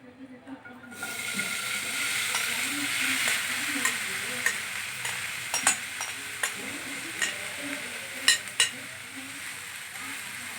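Chicken stuffing fries steadily in a pan with a few spoonfuls of oil, giving a continuous sizzle. Sharp scraping stir clicks become more frequent toward the end.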